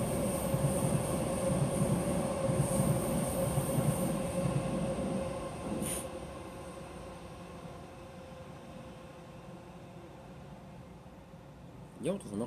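A train rumbles past nearby on the line below a railway overpass, its low roar gradually fading as it moves away, ending with a sharp metallic squeal.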